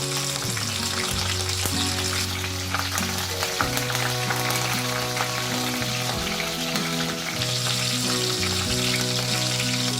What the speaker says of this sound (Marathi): मोहरी जिरं चांगलं तडतडलं पाहिजे